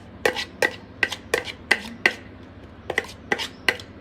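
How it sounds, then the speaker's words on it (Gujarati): Onion crushed for corn bhajiya gives a series of sharp, rhythmic chopping knocks on a board. There are about eleven close, crisp hits in uneven pairs and runs with short pauses between them, and no one talks. "જો આ રીતે છે ને ડુંગળીને આ રીતે ક્રશ કરી લેવાની"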